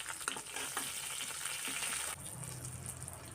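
Garlic, chopped green chillies and curry leaves fry in oil in a pan with a loud, dense, close crackling sizzle. The sizzle eases slightly partway through and then continues steadily.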